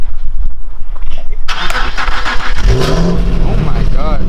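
Infiniti G37 with stock exhaust and no catalytic converters starts up, then revs loudly and raspily up close, with a rising and falling engine note while people talk in the background.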